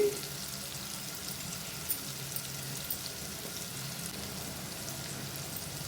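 Chilli powder is stirred into bottle gourd pieces frying for a spicy curry, giving a continuous close sizzle with light scraping and a few soft knocks from the spoon.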